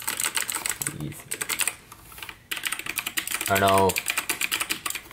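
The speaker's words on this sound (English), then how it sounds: "I guess I got the green caps because the green caps are really loud." Rapid clicky typing on a Razer BlackWidow Chroma V2 mechanical keyboard with loud green switches, dense keystrokes close up, with a person speaking briefly partway through.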